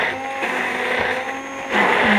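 An immersion blender emulsifying vegan mayonnaise gives a loud, steady motor whir with a slight change in pitch toward the end as the blender is raised and moved.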